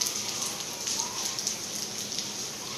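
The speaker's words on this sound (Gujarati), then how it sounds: "દેખો પાણી મસ્ત વરસાદ આવી રહ્યો છે" Steady rain pours down outdoors, a dense, even hiss of drops pattering on surfaces with scattered louder splashes, continuous and moderately close.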